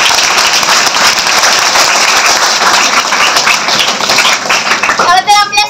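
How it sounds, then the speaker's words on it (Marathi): An audience at a Savitribai Phule birth anniversary and women's liberation day event claps loudly together in dense sustained applause that thins into a few scattered claps at the end. "आपणा सर्वांना विनंती करते त्यासाठी एकदा जोरदार टाळ्या द्या"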